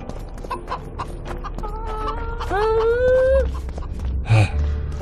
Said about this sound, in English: Kill a chicken.